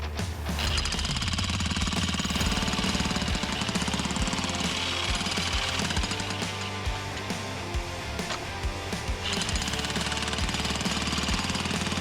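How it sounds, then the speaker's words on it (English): A jackhammer with a spade attachment digging pounds continuously and loudly up close, a rapid rattling hammering that goes on without pause. "The jackhammer with a spade attachment sped up the digging process tenfold"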